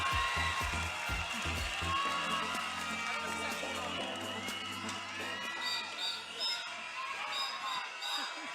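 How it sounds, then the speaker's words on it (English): Audience applause at a beauty pageant pre-competition event, sustained clapping and cheering from a crowd in a large hall, mixed with voices and background music. "Ladies and gentlemen, a big round of applause for Madam Stella Araneta"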